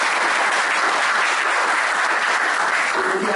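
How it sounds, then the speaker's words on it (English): Dense, steady applause from a conference audience after a debate session at the QLarified 2011 event, loud and continuous throughout with no voices over it. "Next thing is that we clap."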